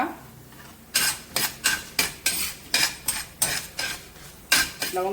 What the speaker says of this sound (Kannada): ಮತ್ತು ಚಕ್ಕೆ ಗಮ್ಮ ಬರುವವರೆಗೆ ಸ್ವಲ್ಪ ಹುರ್ಕೊಳ್ಳಿ